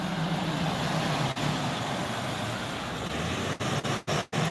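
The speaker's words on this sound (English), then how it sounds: "this tow truck was just going really fast around that corner" A tow truck speeds around a corner at night, its engine and road noise a broad, steady roar close by, broken near the end by a few sharp thumps and dropouts.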